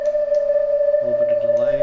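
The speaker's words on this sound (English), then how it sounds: "Throw some reverb on that." A sustained synthesizer tone with a strong steady pitch, joined by a lower harmonic layer partway through, with a roomy reverberant tail.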